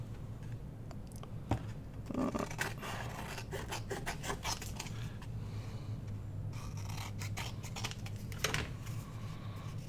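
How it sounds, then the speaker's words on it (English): Scissors snip and rasp around a paper backing piece cut from a scrap notepad while making matchbook notebooks, with close, repeated cuts and paper rustling throughout. "So I'm just going to cut around this, and then I'm going to glue that down."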